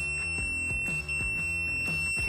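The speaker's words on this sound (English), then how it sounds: "You get a continuity reading" A Kaiweets multimeter sounds a steady, unbroken high-pitched continuity beep while its probes are held together, lasting the whole moment over louder rhythmic background sounds.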